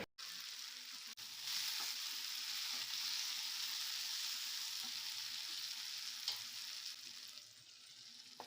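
Bread masala with salt being stirred in a frying pan, a steady soft sizzle of frying with occasional scraping and stirring clinks, heard up close and alone without talk.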